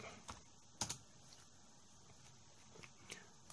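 Quiet keystrokes on a ThinkPad X32 laptop keyboard, a few soft scattered clicks with one sharper pair of taps, otherwise faint background.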